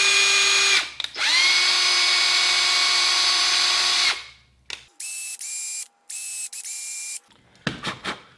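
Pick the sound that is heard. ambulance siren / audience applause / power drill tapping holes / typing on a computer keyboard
power drill tapping holes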